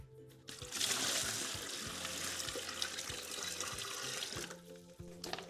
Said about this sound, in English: First step is for me to take the excess water off